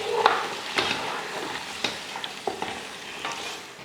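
Chicken masala with tomatoes sautéing in a pan, a soft bed of frying with a string of sharp spoon scrapes and clacks spaced irregularly through it, close by and with no speech.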